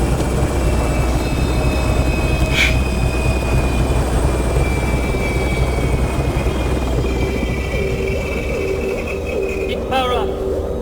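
A helicopter in the video game Nuclear Nightmare drones steadily throughout with a loud rotor rumble, while a voice talks over it.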